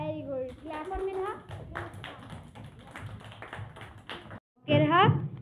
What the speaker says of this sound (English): Clap for Minha.